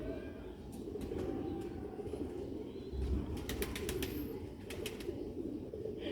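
Rare Sialkoti pigeons coo steadily in a low, rumbling murmur, with faint chirps and occasional brief higher calls over a constant background.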